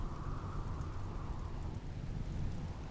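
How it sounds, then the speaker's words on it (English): Rain falls steadily in the colony-building video game RimWorld, a dense continuous hiss with a low rumble beneath, loud and unbroken for three seconds with no talk over it. "It's raining, fine."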